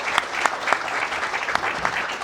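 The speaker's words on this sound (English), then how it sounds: "would you please provide a nice round of applause, a warm welcome for our Director of Athletics" Steady audience applause welcoming a Director of Athletics at a press conference, a dense wash of clapping with a few sharper claps standing out, continuous throughout.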